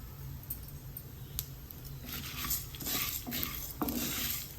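Chana dal stir-roasted in oil in a thick pan over low flame, faint soft scraping and stirring with a few light clinks, quiet and close.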